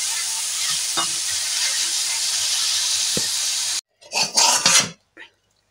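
Red amaranth greens fry in a pan with a steady hissing sizzle, then cut to short bursts of stirring and crackling before falling silent.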